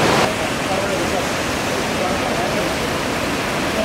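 A flooded river rushes past an eroding bank beside the Kodari highway in Barhabise, Sindhupalchok, Nepal, a loud, steady broadband roar of churning water close by and without pause.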